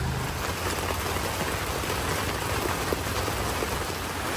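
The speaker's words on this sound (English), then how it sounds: "The rain is coming straight down." Heavy rain pours straight down outdoors on a farm, a dense, loud, unbroken hiss of drops striking surfaces without letup.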